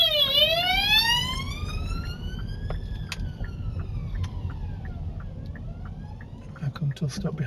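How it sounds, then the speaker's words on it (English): An ambulance siren wails on a road, its rising and falling tones sweeping up then down as it passes, heard from inside a car over a low engine rumble. "that's why there's an ambulance coming"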